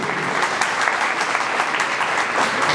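Audience at an inauguration ceremony for a yoga foundation in Badlapur claps loudly and steadily, a dense sustained wash of many hands with no break.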